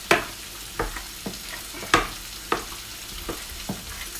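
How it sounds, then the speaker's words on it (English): Chicken, leek and potato soup stirred with a wooden spoon in a pot, a series of sharp knocks and scrapes at an uneven rhythm over a faint simmer, close and clear, no talk. "Need to get another wooden spoon now to stir my thing here,"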